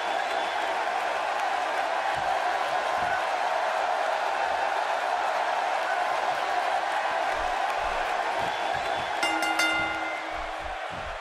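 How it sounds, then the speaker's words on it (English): Steady roar of a large arena crowd in the wrestling game WWE 2K17 at a Wrestlemania event, continuous and fairly loud, with a brief bell-like ring near the end as it eases slightly. "Wow, this amazing crowd is in for one hell of a match."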